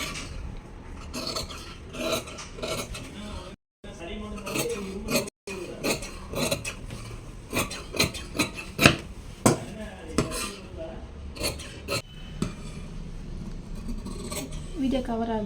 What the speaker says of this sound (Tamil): இது கட்டிங் போட்டுருவோம்.